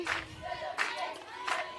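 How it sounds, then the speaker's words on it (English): Cheering and clapping from a women's softball dugout at an outdoor state-level preliminary final on wet grass, heard as three short bursts of voices and hand claps spread across the moment, moderately distant and fairly faint. "you can hear the Firestars dugout off to my left here with their spirit and cheering"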